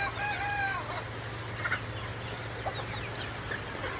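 Local farm chickens cluck and call near the listener in short, scattered bursts over a low steady hum, with no one talking.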